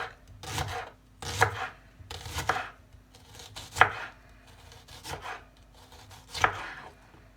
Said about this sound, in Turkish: Şimdi arkadaşlar soğanlarımızı da aynı şekilde ince ince kıyıyoruz.